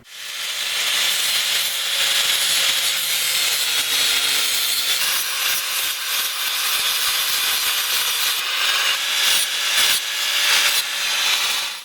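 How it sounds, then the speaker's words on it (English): An angle grinder grinds flat and bevels the broken faces of a cast post vise, giving a loud, steady, harsh whine that runs continuously with no speech. "I think the first step here is going to be grinding these faces here flat and then grinding in a bevel."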